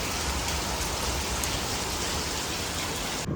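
Heavy afternoon rain pours down steadily outdoors, a dense, even hiss of drops on surfaces that continues without pause and ends abruptly.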